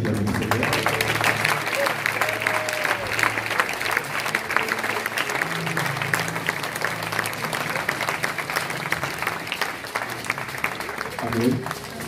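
A church congregation applauds and cheers for the Lord during a sermon, a sustained, dense wash of clapping with crowd voices and shouts running steadily throughout.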